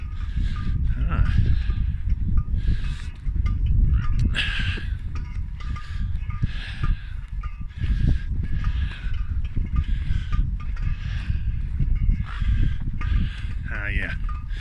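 Two birds calling on Hatterral Ridge near Llanthony Priory, repeated bright cries recurring throughout over steady outdoor rumble and handling noise.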